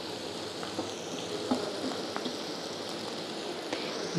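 Ginger and garlic paste frying in oil in a pan for chicken gravy, giving a steady soft sizzle with a few faint pops and light scrapes, close by.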